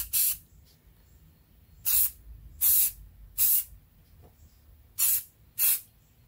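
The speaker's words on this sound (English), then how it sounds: "And we're just going to spray some paint." Black gloss enamel paint sprays from an aerosol can in six short hissing bursts with pauses between them, close and fairly loud, with no talking.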